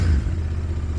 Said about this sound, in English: I'll give it a couple light revs here.